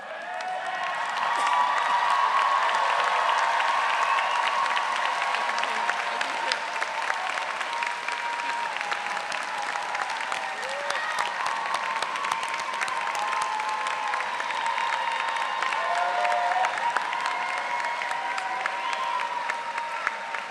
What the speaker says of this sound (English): would the graduates please rise and turn toward our guests and lead us in the applause for your family and friends